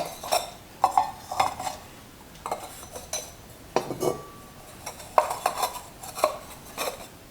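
Bisque-fired ceramic ramekins clink and knock together as they are unpacked from a pottery kiln load, producing a series of sharp, close, irregular chinks and clatters separated by short quiet gaps.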